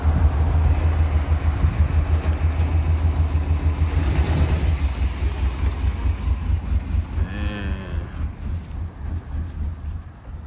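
A 33-year-old truck's engine idling after stalling, a low, rough, rhythmic rumble pulsing steadily up close, fading slightly over time, with a brief squeak near the end and no speech.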